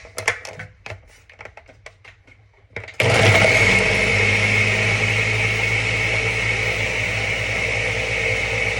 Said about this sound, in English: now we're going to put the top on and blend it up